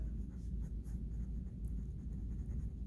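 A pen scratches across paper during an algebra class, a continuous soft scraping with small irregular strokes, close and quiet with no voices.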